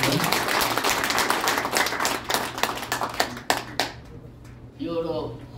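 Applause breaks out at a Korean civic gathering welcoming invited candidates, dense clapping from a crowd that thins out and gives way to talk near the end.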